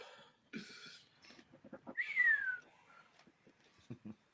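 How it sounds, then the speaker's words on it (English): During a casual podcast conversation, a person gives a short whistle that slides downward in pitch, clear and fairly loud, set among murmured voices and other scattered noises. "He gave the moan, and then he whistled like my nigga tricks"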